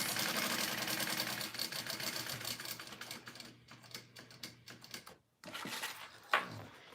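A sewing machine bastes foam, running in a dense, continuous mechanical whir of rapid stitching that thins briefly and stops for a moment near the end before restarting, close and steady with no voices.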